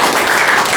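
Audience applause at a university teaching session, a brief steady wash of clapping from a room of listeners, no voices over it.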